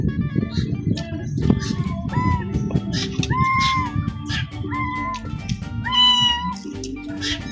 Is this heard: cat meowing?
yes